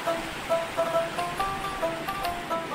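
Water rushes through the Dindinga sluice gate in Dhubri, Assam, a continuous loud roar of churning flow heard up close, steady with slight surging swells and no voices.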